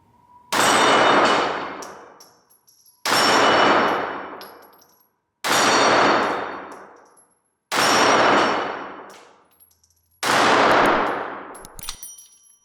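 Glock 42 subcompact pistol in .380 ACP with a 3.2 inch barrel firing at steel plates: five loud, evenly spaced shots about two and a half seconds apart, each a sharp crack followed by a ringing metallic clang that decays, with no talk.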